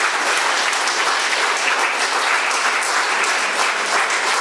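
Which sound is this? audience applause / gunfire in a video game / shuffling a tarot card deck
audience applause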